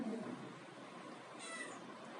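A yellow cat gives a faint, drawn-out meow near the end after a moment of quiet room noise.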